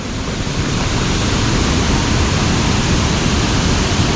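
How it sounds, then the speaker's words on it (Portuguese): A waterfall at a campsite roars as a loud, steady, broadband rush that fills the whole stretch without a break, close to the microphone and with no voices. "Nós vai lá na cachoeira."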